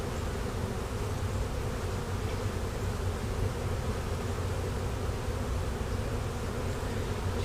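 A swarm of honey bees drones steadily from under a house, a dense, continuous buzzing that stays at an even level from start to finish, with no voices.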